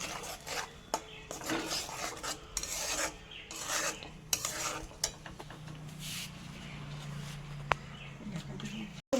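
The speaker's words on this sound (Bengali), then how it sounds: "মশলাটা খুব ভালো মতো করে কষে নিচ্ছি যাতে আদা পেঁয়াজ রসুন তবে কাঁচা রান্নাটা চলে যায়" Metal spatula scraping and stirring ginger, onion and garlic masala being fried in a pan for a cauliflower and potato fish curry, rasping strokes in irregular bursts with occasional clinks, close up and steady.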